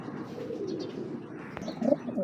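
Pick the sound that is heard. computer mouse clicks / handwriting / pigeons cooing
pigeons cooing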